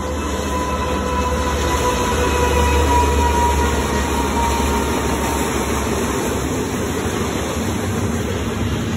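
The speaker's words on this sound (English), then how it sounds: "Oh, here comes a train." A train rumbles past nearby, steady loud rolling noise with faint rail squeal over a low drone, continuous throughout.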